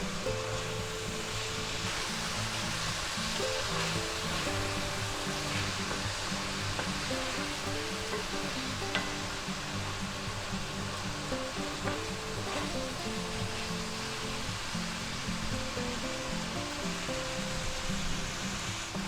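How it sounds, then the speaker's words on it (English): Ground beef with onions and garlic sizzles in a skillet as one continuous hiss that holds steady throughout, with faint tonal background sound and no talking. "go ahead and mix your hamburger back in there, your ground beef"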